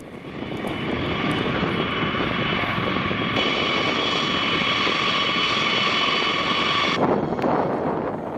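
Engines of a B-52 bomber roar loudly and steadily, a sustained close aircraft drone that cuts off abruptly near the end, with no talk over it.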